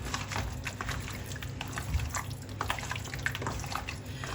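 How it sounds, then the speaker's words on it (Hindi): Wet, squelchy hand-mixing of raw chicken with spices and food colour, a steady stream of soft slaps and squishes with faint drips running the whole time, no voices. "अब मैं हाथों से इसको मिक्स करूँगी।"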